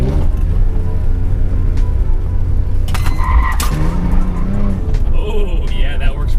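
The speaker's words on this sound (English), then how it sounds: "if you just clutch in and rip that handbrake and pitch it, it just locks right up just like that" A BMW E46 with a Nerptech hydraulic handbrake pitches into a corner at low speed as the rear wheels lock. Steady engine drone runs under a brief tire squeal and skid partway through.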